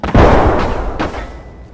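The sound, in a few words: grenade explosion in video game Escape from Tarkov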